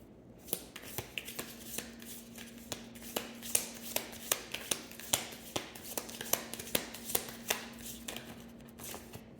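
Tarot cards are shuffled by hand in a steady run of crisp riffling snaps and flicks, roughly two per second, close and fairly quiet with no talking.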